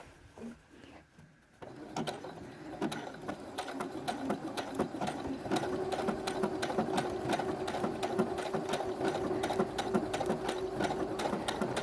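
A sewing machine stitching a blanket-stitch applique on a flag star quilt, a fast steady mechanical rattle running continuously after a short quieter start, close and alone.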